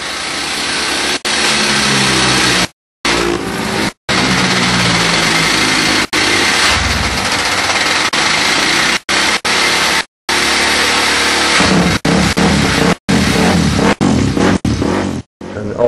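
A Neatafan Minimono 426 single-cylinder racing motorcycle at speed on the Brno circuit, its engine roaring loud and close with rising and falling revs, broken by several short sudden dropouts.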